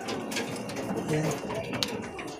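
Racing pigeon at a derby in Laoag, Ilocos, giving soft, brief coos under a low, constant background hum, with faint murmured voices nearby.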